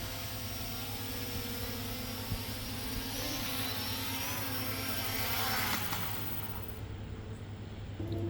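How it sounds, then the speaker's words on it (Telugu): A V06 GPS drone flies close overhead at night and comes in to land, a steady high whirring whine with shifting tones that eases off as it settles. "డ్రోన్ అయితే చాలా దగ్గర వరకు వచ్చేసింది అన్నమాట. దాని సౌండ్ కూడా మీరు వినొచ్చు ఇక్కడ."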